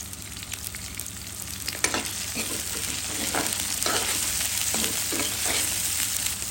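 Garlic sizzles steadily in a hot pan while a utensil stirs and scrapes through it in scattered knocks, under a constant low hum.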